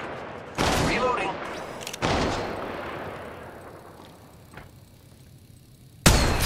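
Gunfire in the mobile battle royale game Apex Legends Mobile: two loud bursts of rapid shots about a second and a half apart, each decaying into a reverberant tail, then a lull and a sudden new blast at the end.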